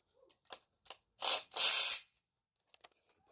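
A ratchet socket wrench turning a bolt on the engine of an abandoned Honda wagon during a teardown, giving a few faint ticks followed by two loud, close bursts of rapid ratcheting clicks, then scattered light taps.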